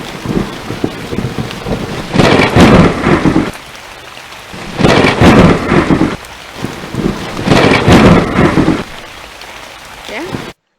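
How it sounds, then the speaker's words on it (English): Loud, heavy rumbles of thunder roll in three long waves over steady rain, each swelling and fading before the next. "I'm going to bring start heavy thunder sound and I'm going to put it right here"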